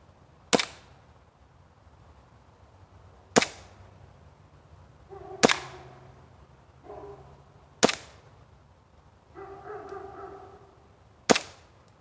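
A WE Desert Warrior airsoft M1911 pistol, fired one-handed, gives five sharp snapping shots spaced a couple of seconds apart, each a crisp close crack with faint sounds between, and no voices.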